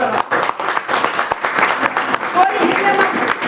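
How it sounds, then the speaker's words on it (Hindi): Audience applause at a meeting, a dense burst of many hands clapping that carries on steadily through the clip, with voices heard faintly underneath. "पर भाई साहब की ताली डालिए तो करा।"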